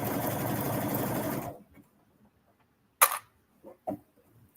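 A sewing machine stitches a swimsuit in one short, even run before stopping, followed by a few faint clicks and small handling sounds in near silence.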